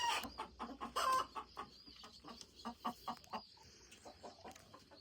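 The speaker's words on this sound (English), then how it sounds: "all the chickens are still roosting because it's dark" Chickens roosting in a dark coop give soft, repeated clucks in an uneven rhythm, quiet and close, with a faint high tone in the background.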